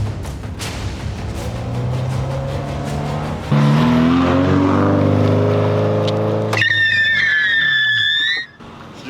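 A car drifts toward the camera for a film shoot, its engine roaring loud and close with tires squealing through the slide, finishing in a sharp high-pitched tire screech before the noise cuts off.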